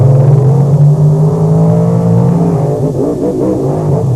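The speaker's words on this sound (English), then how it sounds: "In monster truck racing, they both come off the line very, very even." Ford and Chevrolet monster trucks launch side by side off the line at a beach race in Wildwood, New Jersey, their engines roaring loud and close with a rising, sustained rumble.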